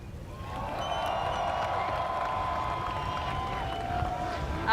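A crowd cheers and hollers for a driver at a motorsports event at Toronto Motorsports Park, a sustained roar of voices with whoops and tonal cries, moderately near.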